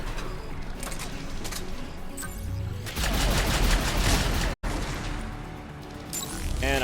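An arc pistol fires in a video game, a run of crackling energy bursts and crashes over game noise. Brief sharp hits are followed by a louder, denser stretch with a short dropout.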